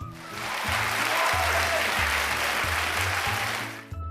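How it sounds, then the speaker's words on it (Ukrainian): A theatre audience claps loudly for the actors at the end of a performance. Dense applause swells in and holds steady over a low, sustained tonal hum before fading at the close. "в кінці вистави обов'язково треба гучно-гучно плескати артистам"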